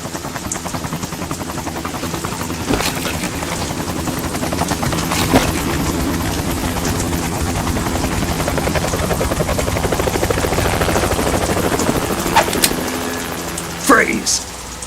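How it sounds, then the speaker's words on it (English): A helicopter in the video game Metal Gear Solid 2 thrums steadily throughout, its rotor chop loud and continuous beneath game dialogue, with a few sharp clicks and a short burst near the end. "You will be on the helicopter out of here now."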